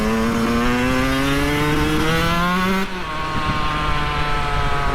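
Two-stroke Yamaha YZ125 dirt bike ridden on a small mountain road, its buzzing engine loud and close, pitch rising steadily under throttle before dropping sharply as it shifts, then droning on amid wind noise.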